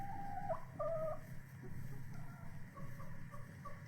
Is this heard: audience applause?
no